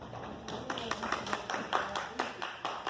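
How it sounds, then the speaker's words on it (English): Scattered hand claps ring out at a moderate distance, a small group applauding a chef's cooking demo in uneven rhythm with some voices murmuring underneath. "We have a round of applause."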